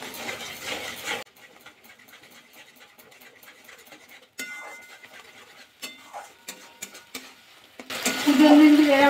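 Cashew and poppy seed paste masala is stirred in a pan, with a burst of sizzle at the start and end and scattered scraping and clinking of a spoon against the pan in between.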